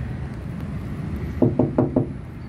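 Four quick knocks on the thin sheet-metal left door panel of a 2015 Honda Brio Satya E manual hatchback, evenly spaced and hollow, close up over a steady low background hum.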